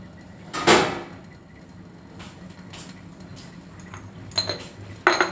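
Spoon working through a coconut rice marinade in a bowl, producing a few sharp metallic clinks and scrapes against the dish, spaced apart with quiet gaps between them.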